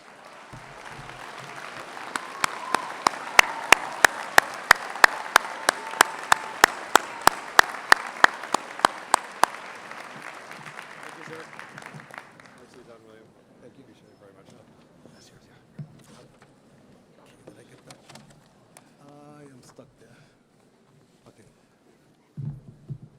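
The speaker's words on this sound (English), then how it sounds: "give yourself an applaud, and applaud your teachers" An audience at a 2015 John Jay College commencement ceremony applauds loudly in a large hall, with sharp claps standing out from the crowd, then the clapping fades to scattered claps and quiet murmuring.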